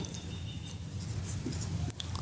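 A pen writes notes by hand on paper, soft continuous scratching close by and faint beneath a low background hum, with one brief sharp tap near the end.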